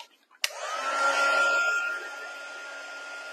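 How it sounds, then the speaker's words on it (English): A heat tool blows steadily over card-making paper, starting abruptly with a click, loud for about a second and a half, then settling into a softer, continuous whirring hiss. "now I'm going to use my heat tool."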